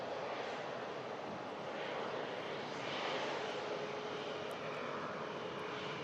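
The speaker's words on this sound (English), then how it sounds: "This aircraft arriving in from Singapore after a 13-hour, 15-minute flight" Airliner arriving after a long-haul flight from Singapore, a steady broad engine roar with rushing noise that holds loud and constant throughout, no talking.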